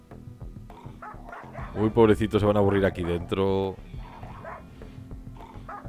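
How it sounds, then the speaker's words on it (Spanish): Wolves in the colony-building video game RimWorld let out a rapid cluster of yelping barks that swell in the middle and then fade, while someone speaks before and after. "Se los oye ladrando."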